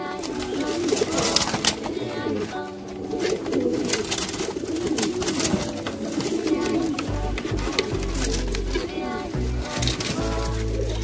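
Racing pigeons coo steadily in repeated low throaty phrases while being picked up and handled, several birds close by with ongoing rustle and background clatter.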